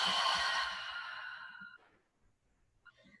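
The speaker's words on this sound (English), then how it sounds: "Big inhale. Really loud exhale" A loud, breathy exhale during a gentle restorative yoga session, a long airy sigh that trails off over about two seconds, followed by quiet and a faint breath.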